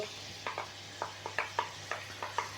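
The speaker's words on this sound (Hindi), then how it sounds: "अब मैंने 1 अदद बड़े साइज़ का ये प्याज लिया था, इसे बारीक काट लिया था, ये डाल दूँगा" Finely chopped large onion sizzles in hot oil in a kadhai under a low steady hiss, while a spoon stirs with about ten light scraping clicks in an uneven rhythm.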